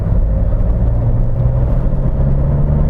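A Fiat Bravo 1.9 JTD diesel pulls hard at full throttle in third gear, giving a loud, steady low engine drone with turbo whir, heard from inside the car without talk.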